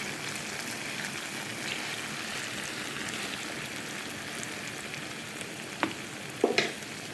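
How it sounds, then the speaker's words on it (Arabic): Eggplant zaalouk fries in a pan with a steady, dense sizzle throughout, close and even, broken near the end by a few sharp clinks of stirring. "ونخليوه يتقلى مزيان"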